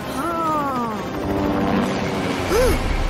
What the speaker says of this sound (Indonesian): Helikopter super!